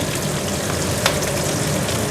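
Fish broth in a pot bubbles and hisses at a steady, loud boil, close up and continuous, with no voices.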